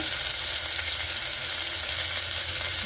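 Onions sizzle and fry steadily in a hot pan while tomato bath is being cooked, a continuous close crackling hiss with no voices over it.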